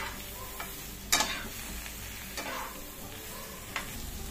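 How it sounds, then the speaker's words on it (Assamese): Mushrooms sizzle steadily in a hot pan while a spatula scrapes and stirs a few times, with soft clacks against the metal. "এয়া মই গোটেইখিনি মছৰুমে ভালদৰে ভাজি ল'লোঁ"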